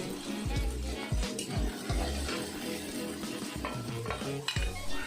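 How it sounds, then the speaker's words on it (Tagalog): Potatoes cooking in a pan get stirred with a utensil, close scraping strokes against the pan over a soft frying sizzle, repeated in an uneven rhythm, with no talking. "Lulutuin lang natin yung ating mga patatas hanggang sa medyo lumambot na ito."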